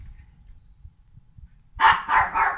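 A small female dog barks three times in quick succession, sharp and close, after a stretch of near silence with only faint low rumble.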